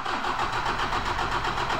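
A 2005 Toyota Hilux diesel engine with a starting fault catches and runs, a loud close mid-pitched clatter churning steadily through the whole brief moment.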